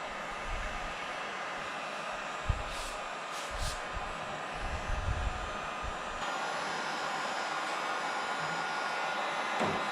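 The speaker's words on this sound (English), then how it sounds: "Want to heat up the pipe so that way we can bend it easy." Steady roaring blast of a heat gun warming a plastic conduit pipe so it can be bent, a continuous broadband hiss running throughout with small knocks and handling bumps.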